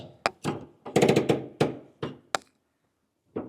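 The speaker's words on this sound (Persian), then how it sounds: "و صدای ترمز دستیش" Handbrake of an old Jian car, a 65-year-old model, being worked: a quick run of close, sharp knocks and ratcheting clacks, then a pause and one final thunk.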